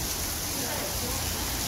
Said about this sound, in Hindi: आप देख सकते हैं कैसे टाइट बारिश हो रही है